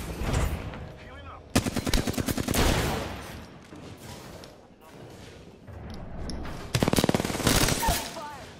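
Rapid automatic gunfire in the video game Apex Legends, loud close bursts around the middle and near the end, over a busy background of game effects and faint voice callouts.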